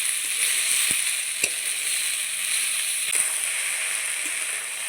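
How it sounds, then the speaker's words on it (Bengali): Mituri sizzles in a pan with onion and panch phoron while being stirred, a steady bright hiss broken by a few sharp spatula scrapes and knocks against the pan. "প্রায় অনেকক্ষণ ধরেই মিচুড়িটাকে রান্না করতে হবে এইভাবে নাড়তে নাড়তে"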